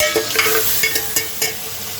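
Tomatoes frying in a pan for khichdi give a steady close sizzle, broken by a few soft stirring scrapes of a spoon, and no one speaks.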